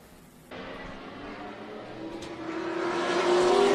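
Modified race cars roar around the oval at Tucson Speedway at night, engine noise swelling suddenly, then building steadily louder as a car approaches and revs, with no voices.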